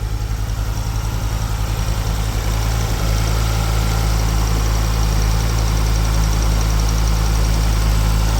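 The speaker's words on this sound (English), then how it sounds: "engine's running." A Honda XR5 motorcycle engine under restoration idles steadily up close, a loud, even low-pitched throb with a rapid regular pulse and no talking.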